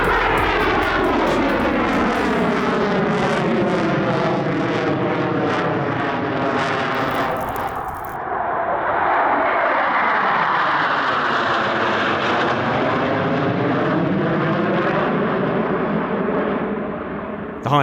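A Royal Australian Air Force Super Hornet flying a display at the Avalon airshow roars loudly overhead. Its sweeping, pitch-shifting jet tones surge, dip briefly and then swell again as it passes close by.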